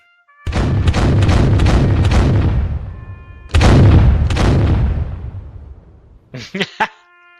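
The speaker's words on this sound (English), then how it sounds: "Fire the cannons!" Deep, booming blasts of cannon fire, two big rumbling volleys that roll and fade, followed by a short burst of shouting voices.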